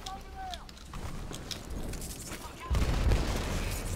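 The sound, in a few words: gunfire from the video game Titanfall 2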